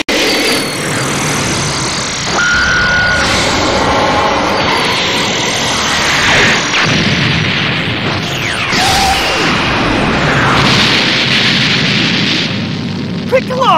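The Supreme Cannon energy blast attack from the Dragon Ball Xenoverse 2 video game roars as a sustained, loud rushing blast with booming bursts and swooshes, dense and continuous, mixed with a character voice shouting over the action.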